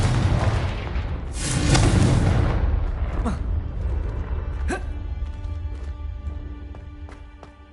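A Confringo blasting spell explodes in the Hogwarts Legacy video game, a loud booming burst that rumbles on for several seconds, followed by two sharp cracks and fading debris.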